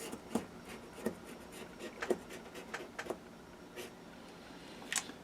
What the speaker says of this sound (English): then I can draw my half circle on